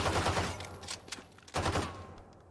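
Frenzy pistol from the game Valorant firing rapid bursts of shots, two clusters of loud close reports with a short pause between, no talking.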